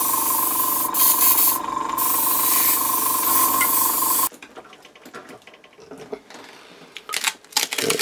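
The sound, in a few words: spray paint dusting over dungeon tile stencil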